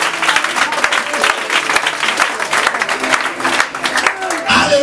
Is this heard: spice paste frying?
no